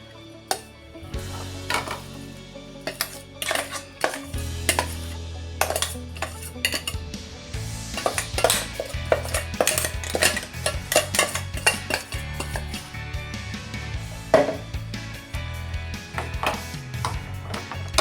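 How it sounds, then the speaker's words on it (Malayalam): Ground curry leaf chutney powder is mixed on a plate, giving repeated scraping clinks of a spoon against the dish, irregular and close, growing busier as the stirring goes on. "ഇത് നമുക്ക് ഒരു പ്ലേറ്റിലേക്ക് ഇട്ട് യോജിപ്പിച്ചെടുക്കാം"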